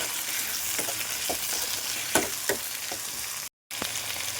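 Chopped tomatoes with ginger and garlic frying in a pan for a chickpea dish, a steady close sizzle broken by occasional stirring scrapes and a brief dropout, no talk.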